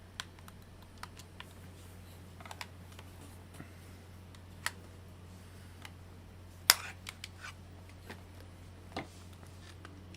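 Fast typing on a computer keyboard at a desk during crypto margin trading, with soft rapid key clicks and a few sharper taps over a steady low electrical hum, fairly faint and without speech.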